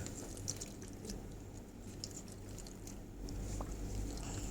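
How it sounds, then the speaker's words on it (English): Water trickling and dripping out of a papier-mâché paper mixture squeezed in a cloth, a soft, steady wet patter heard close up with no talking. "as I'm squeezing, the water is just coming and coming out."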